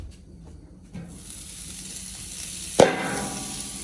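Bacon hits a hot griddle over an outdoor fire with a sudden sharp burst of sizzling near the end, after a quieter stretch of low background noise and a small thump.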